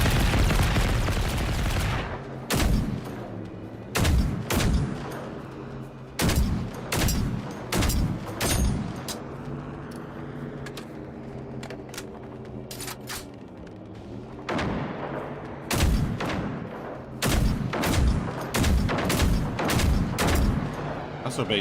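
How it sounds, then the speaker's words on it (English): Rocket launches and gunfire aimed at a flying enemy in the game Generation Zero, loud repeated blasts and booms in irregular bursts with a quieter stretch midway, while people talk over them. "I launched a bunch of rockets at it."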